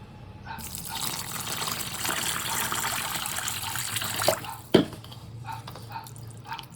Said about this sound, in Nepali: यसलाई चाहिँ मैले पानी हालेर फेरि मार्छु होइन